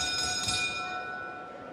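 A boxing ring bell at a live fight rings once with a bright metallic clang and sustained overtones that fade slowly over steady arena murmur.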